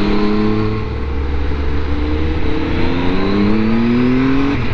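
A motorcycle climbs the Fluela Pass in the Swiss Alps with a steady, loud engine drone, pitch slowly rising as it pulls uphill, and wind rushing past throughout.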